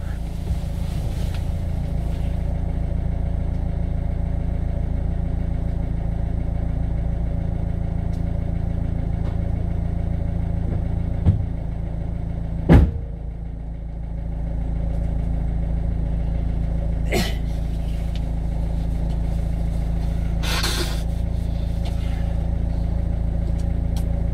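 A car engine idles steadily after its air flow meter has been replaced, a continuous low rumble broken by a few sharp knocks and clicks near the middle and end, with faint voice traces.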